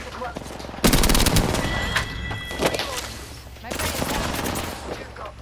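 Gunfire in the Apex Legends video game erupts in dense automatic bursts, two loud volleys with a quieter lull between them. A player speaks over the shooting.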